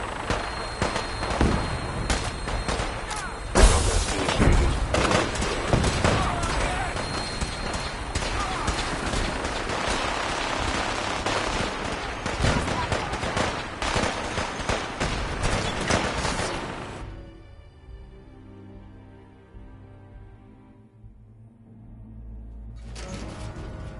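Rapid bursts of gunfire and explosions in the Fallout 4 video game, dense and loud with repeated sharp shots, fading to a quieter hum near the end.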